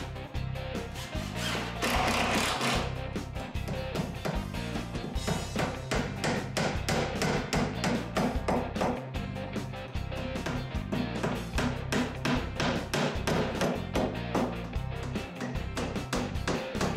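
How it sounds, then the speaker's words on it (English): Sharp, repeated hammer blows ring out close by in a quick, uneven rhythm, driving nails into the wooden face plates of an entertainment center over a low background rumble. "I'm finishing up putting the last few nails and screws in on the face plates on the front"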